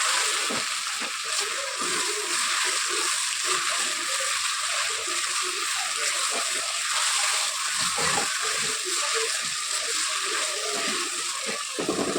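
Mixed vegetables fry in a pan with a little salt for a palak paneer masoor pulav, giving a steady, fairly quiet sizzle that runs unbroken throughout with no talking.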